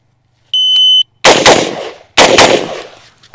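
Two loud, close bursts of rapid CQ-A 5.56 rifle fire on a shooting range during a timed drill, each a quick double shot, preceded by a short electronic beep from the shot timer.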